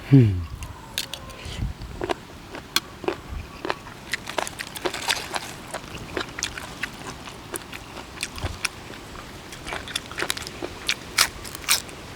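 Close, crisp crunching as squid cartilage salad is bitten and chewed, with sharp crackly snaps repeating irregularly throughout.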